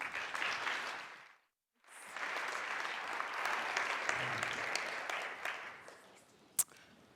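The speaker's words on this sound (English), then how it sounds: "Please give her a round of applause." A conference audience applauds a speaker in a sustained burst of clapping, breaking off briefly and then resuming steadily until it fades, ending in a single sharp knock.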